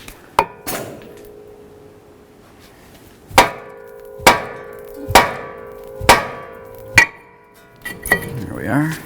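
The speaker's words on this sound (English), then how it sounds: "let's give it a loving bonk along this area with the hammer" Hammer blows against a seized front brake rotor on a 2009-2020 Dodge Journey, six sharp metallic bangs with ringing decay, spaced about a second apart after two earlier strikes, close and loud.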